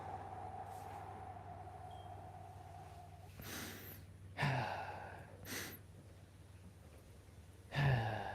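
A person exhales slowly and deeply during an outdoor lower-body stretching workout, with several soft breathy sighs and gasps over a quiet outdoor background hum.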